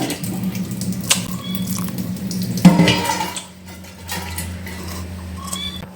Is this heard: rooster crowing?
no